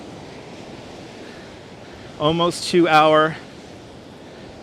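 Rough ocean surf and wind at Coney Island, New York, a steady broad wash of noise throughout, with a person speaking briefly over it midway.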